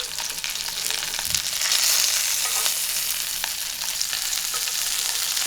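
Butter and thyme sizzle steadily in a hot pan beside a sous vide rack of lamb, a loud continuous close hiss with faint spoon scrapes as the melted butter is basted over.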